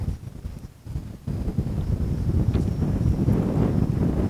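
Outdoor wind buffets and rumbles across the microphone while a small Eachine Mini Mustang P-51D model plane flies, a low gusty roar that rises after a brief lull and then stays steady, with no voices.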